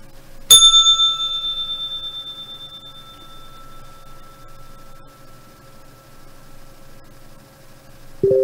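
A single bright bell strike rings out at the close of a live futures and cryptocurrency trading broadcast, then decays slowly over several seconds, with a second brief ding right at the end.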